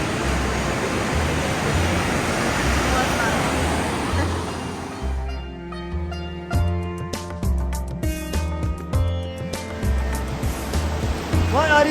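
Rushing water from a mountain waterfall in India fills the first five seconds as loud, steady broadband roar, then drops back under a busier scene with repeated clacking or tapping sounds and voices.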